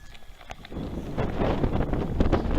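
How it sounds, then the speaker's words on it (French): Wind buffets the microphone at an equestrian centre in a steady rushing roar that grows stronger after the first second, with no voices. "Je sais pas si vous m'entendez avec le vent."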